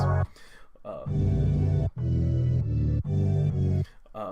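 Sustained, swelling synthesizer chords in several held blocks with brief gaps between, rich and resonant, played close and loud.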